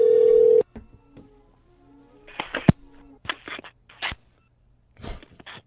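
Telephone keypad tones: a steady tone cut off, then a scattered series of short DTMF beeps of uneven spacing, some clustered close together, clear and fairly near with quiet gaps between.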